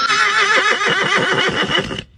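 Horse neighing in one loud, shrill, quavering whinny of about two seconds, close by and alone.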